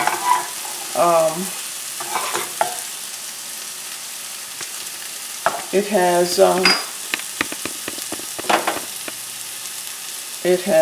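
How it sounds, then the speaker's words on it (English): Quinoa stir fry cooking in a pan, with bursts of sizzling and clattering stirring that come and go in short bouts against a quiet, steady background. "I'm going to add it to our stir fry."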